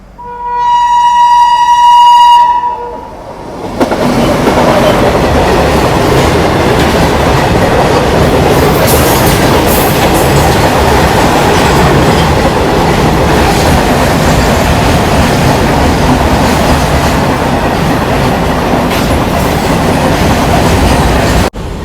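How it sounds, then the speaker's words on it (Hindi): A freight train overtakes a passenger train, the Ganga Sutlej Express, at Birapatti railway station in India. Tonal horn-like notes sound first, then a loud, close, continuous rumble of rolling wagons and clattering wheels runs to the end. "मालगाड़ी ओवरटेक मार के जा रही है।"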